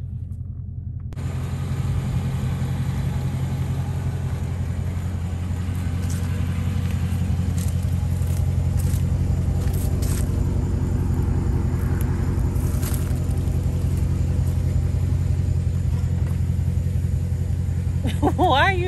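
A Dodge Challenger Scat Pack 392 idles with a deep, steady engine rumble just before a burnout, loud and close throughout, as people talk over it.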